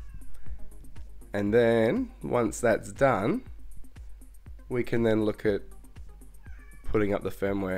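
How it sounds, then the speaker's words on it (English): A house cat meows repeatedly in the background, several drawn-out calls in separate bursts, while someone speaks nearby over a workbench. "I'm sorry if you can hear my cat in the background."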